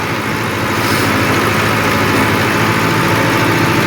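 ATS 290 tractor engine pulling a rotavator in third gear, a loud, unbroken mechanical rumble with a steady low throb, close by, with no talking.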